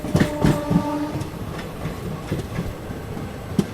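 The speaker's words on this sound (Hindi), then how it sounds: "अपनी ट्रेन पहुँच रही है दुर्गापुर रेलवे स्टेशन" The Sealdah–Ballia Express pulls into Durgapur railway station, its wheels clacking over rail joints in a quick cluster of sharp beats, then slower spaced knocks over a steady rumble, with no voices.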